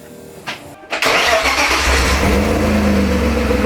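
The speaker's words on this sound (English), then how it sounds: "let's just start the car one more time just because I can't get enough of it right now" A BMW M50B20 inline-six engine in a T18 drift car cranks briefly, catches and fires up, then revs loud and close before settling into a rough, steady idle.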